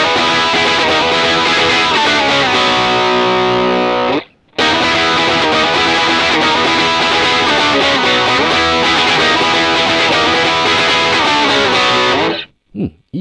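A Fender USA American Vintage '62 Custom Telecaster played through a ZOOM MS-50G multi-effects pedal with the gain turned down, loud distorted chords ringing out with a short pause near the start and an abrupt stop at the end.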